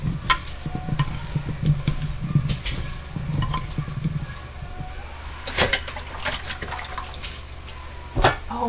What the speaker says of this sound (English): I'm gonna stick my hands back in here and get that all nice and incorporated